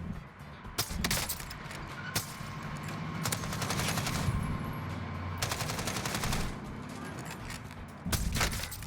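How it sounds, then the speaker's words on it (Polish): Gunfire in the video game Warzone, bursts of rapid automatic shots and scattered single reports in dense layers, loud and continuous across the whole stretch with the action crowding in. "Czemu każdy do mnie strzela?"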